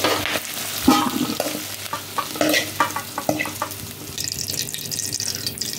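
Onions sautéing in a pan for a prawn dry gravy, browning in oil with a steady sizzle broken by repeated scraping and stirring clatter, close and fairly loud with no talk.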